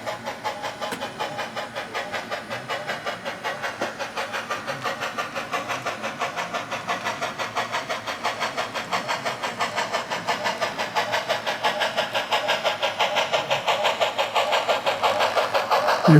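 A diesel locomotive motor drive gear whines and hums near the Mukilteo tracks, a rhythmic pulsing mechanical drone that holds steady and slowly swells louder toward the end, with no voices.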